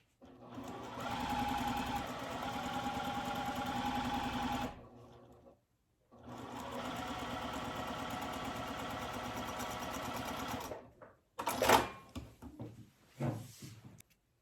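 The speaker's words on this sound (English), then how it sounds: "Now I'm going to sew from here all the way off to the edge." A sewing machine stitches quilt pieces together for a Cotillion quilt, running steadily for several seconds, pausing briefly, then running again before stopping with a few quieter handling noises at the end.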